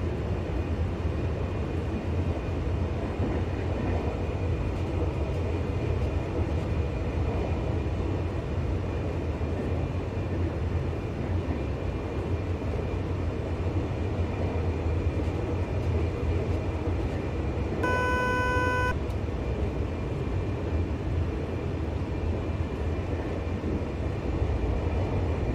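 A regional train in Train Simulator Classic runs through forest on a Northern Germany route toward Neumünster, giving a continuous loud rolling rumble and drone, with a short tonal signal sounding near the end.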